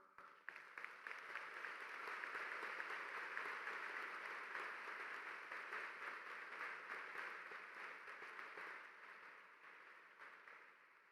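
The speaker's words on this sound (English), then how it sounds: "Please join me to thank them with a big round of applause." Commencement audience in an arena applauding at an undergraduate graduation ceremony, a steady wash of many hands clapping that swells, holds for several seconds and slowly fades, heard from a distance.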